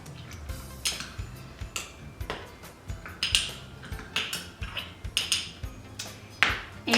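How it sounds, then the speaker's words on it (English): Stirring a cardamom pear walnut overnight oats mixture in a bowl, with repeated clinks and scrapes of a utensil against the dish in an irregular, steady rhythm, close and moderately loud. "then we're just gonna give this a stir"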